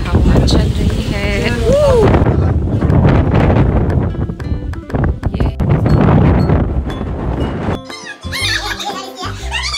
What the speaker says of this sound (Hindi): ये हवा चल रही है